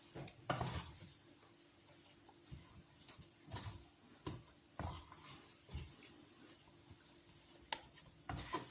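A spoon scrapes and stirs churro dough in a pan as it dries, making soft, close, irregular rubbing and scraping strokes with faint sizzle beneath, no voices.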